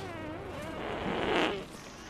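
A drawn-out, sputtering fart escapes from a corpse on a beach in a film scene, rising to a buzzy peak before tapering off, fairly quiet and with no talking.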